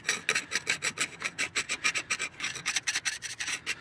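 Carbon deposits being scraped off parts of a junkyard 6.0 LY6 V8 engine during disassembly: quick, evenly spaced rasping strokes, about four per second, close and fairly quiet, with no voices.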